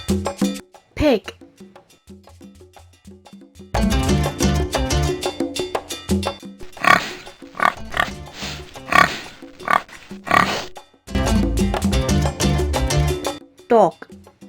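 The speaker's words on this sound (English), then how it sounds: "Pig." A pig oinks and grunts in short bursts over busy background music, the grunts rising above the music at the start and again near the end.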